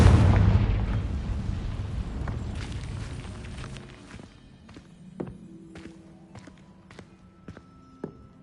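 Spell explosion from Confringo in Hogwarts Legacy, a loud booming burst at the start that fades into a rumbling tail, followed by scattered sharp clicks and small impacts, with no talking.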